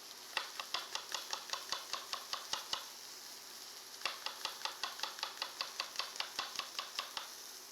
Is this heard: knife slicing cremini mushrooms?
yes